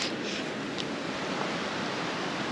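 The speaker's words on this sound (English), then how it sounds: "I enjoy camping alongside the river because of the noise." A river beside a campsite rushes steadily, a dense, even roar of flowing water that stays constant and close throughout, with no voices or other sounds.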